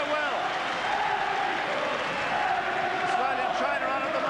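Stadium crowd at a rugby league match, St Helens v Australia, giving a broad, steady wash of applause and crowd noise throughout, with a commentator's voice heard faintly over it.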